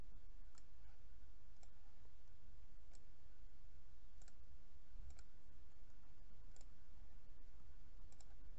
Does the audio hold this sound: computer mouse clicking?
yes